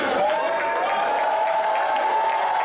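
A wrestling crowd in Sacramento applauds and cheers steadily for Joe Gamble, a dense, continuous wash of clapping and crowd noise heard from within the arena.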